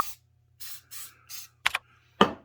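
Short puffs of super glue accelerator sprayed onto a wooden ant model, three quiet close bursts followed by a couple of faint handling clicks and taps.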